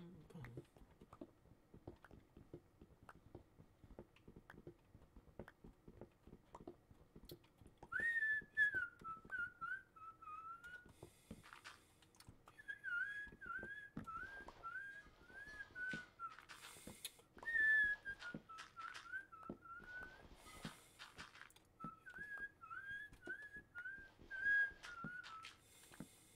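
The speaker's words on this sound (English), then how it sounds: "Is that you whistling?" A person whistling loudly in short repeated melodic phrases, beginning about a third of the way in and recurring over sharp tapping and clicking noises.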